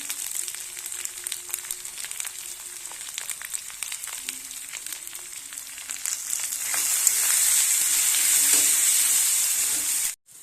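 Spices sizzle and crackle in hot oil with green chillies, salt, turmeric and chilli powder for a tiger prawn curry, a steady frying hiss broken by scraping stirs, louder and fuller in the last few seconds before stopping abruptly.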